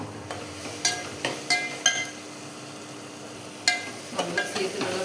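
Soaked seeraga samba rice is stirred in a pan for tomato rice, with a soft sizzle underneath and several sharp clinks of a spoon against the pot.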